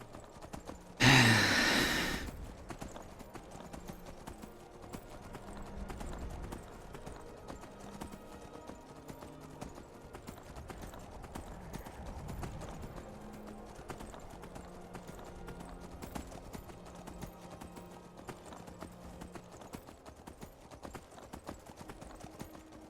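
Faint rhythmic hoofbeats of a galloping horse patter steadily over a long stretch, with a brief loud burst near the start.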